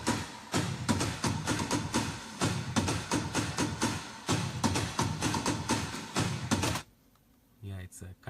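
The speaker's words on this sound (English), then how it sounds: "Yeah, it's a kind of a carnival drums." Carnival drums from the break section of a party track, a dense, driving pattern of loud hits and rolls pounding continuously before cutting off, followed by a brief voice.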